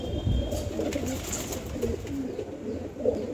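Pigeons coo softly in a few low, throaty murmurs, repeating at a relaxed pace against a quiet background.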